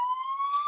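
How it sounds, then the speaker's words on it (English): A home security alarm accidentally switched on sounds a steady, piercing electronic beep-tone held without a break, loud and close, with no voices over it. "I accidentally turned on my alarm"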